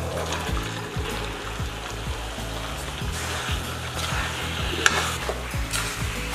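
Potatoes tumble into a pan of simmering tomato puree for a halwai-style aloo sabzi, and a steady close sizzle follows with stirring scrapes and a few bright clinks.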